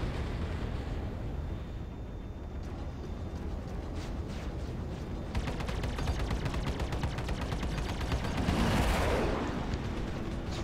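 Spaceship weapons fire in a Star Citizen dogfight video game: a dense, continuous barrage of rapid gunfire-like bursts and blasts, steady and loud throughout, swelling into a heavier roar near the end.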